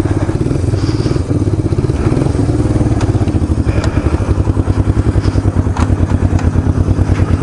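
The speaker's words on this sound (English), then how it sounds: "It's idling." Motorcycle engine idling at a petrol station, a steady close, loud, lumpy chug with fast rhythmic pulses and occasional light clatter, no voices heard.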